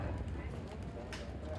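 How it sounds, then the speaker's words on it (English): Registered three-year-old trotters clip-clopping on a racetrack as they come down from the grandstand before a race, hooves thudding steadily under a busy background. "3-year-old registered trotters making their way down from the grandstand"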